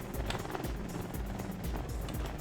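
Steady whirring helicopter rotor and engine drone in the video game Trailmakers, with a low rumbling throb, continuous and fairly loud throughout.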